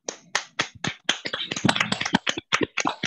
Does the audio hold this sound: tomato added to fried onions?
no